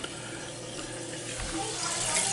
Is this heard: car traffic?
no